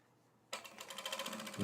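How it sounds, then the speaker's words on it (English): A sewing machine edge stitching fabric pieces with a half-inch seam allowance starts abruptly after a quiet moment and runs in a close, rapid, even mechanical chatter of needle strokes. "edge stitching now to hold the pieces together with a 1/2 inch seam allowance"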